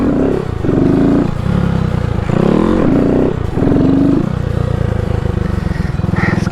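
Honda Grom motorcycle engine revving hard during wheelie practice, loud and close with repeated throttle surges and drops, a voice briefly audible.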